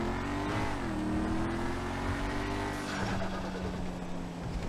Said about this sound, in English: we're gonna punch it and hear this turbo